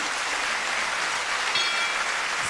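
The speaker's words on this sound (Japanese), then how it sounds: "さあ後楽園ホール大きな拍手に包まれました。" Sustained crowd applause fills a boxing hall at Korakuen Hall during a bout between Masayuki Ito and Valentine Hosokawa, a steady, dense wash of clapping at even loudness with no voices standing out.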